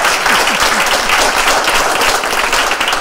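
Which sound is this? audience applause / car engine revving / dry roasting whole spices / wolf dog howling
audience applause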